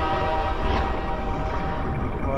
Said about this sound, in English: There's a train.